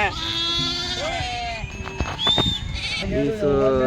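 Several sheep bleat loudly and repeatedly close by at a sheep market, overlapping one another amid a busy crowd with people talking.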